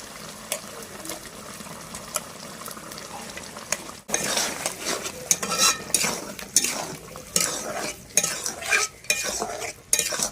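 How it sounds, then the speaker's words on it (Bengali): Pureed spinach paste is stirred into browned chicken pieces in a pan, with close, repeated scraping strokes of a spoon over a steady sizzle that grow busier partway through. "এর মধ্যে এবার আমি দিয়ে দেব পালং শাক বেটে রেখেছি সেটা।"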